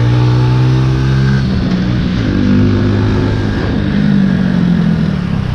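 A Honda Little Cub motorcycle's small engine hums steadily and close while riding, with a loud continuous drone that rises and falls slightly in pitch as the throttle changes.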